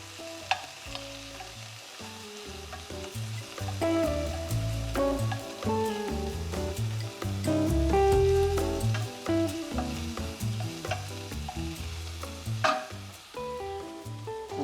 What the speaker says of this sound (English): we start off by putting the pancetta